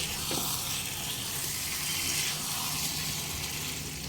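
Bone-in chicken pieces hit a pan of fried spices with a loud, steady, close sizzle that holds evenly throughout.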